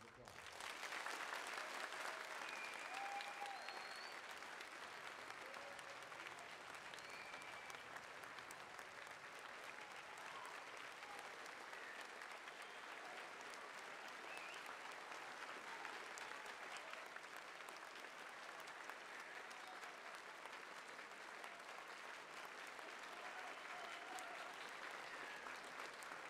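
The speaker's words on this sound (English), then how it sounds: "let's give our veterans a round of applause." A high school Veterans Day program audience gives a long, sustained round of applause for the veterans. The clapping stays thick and even for over twenty seconds, with occasional whoops and cheers rising above it.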